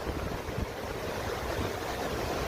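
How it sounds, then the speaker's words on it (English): Water rushes down the Woods Creek natural rock water slide on a mountain trail as a steady, dense roar. It is close and continuous, and no one speaks. "this is the Woods Creek water slide."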